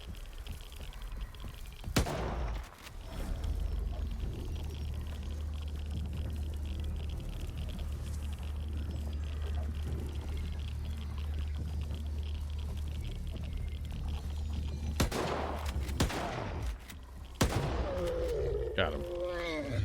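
Enemy gunfire in STALKER 2 bursts out in a couple of loud blasts over a low, steady rumbling ambience, with a later cluster of shots and a voice briefly speaking nearby.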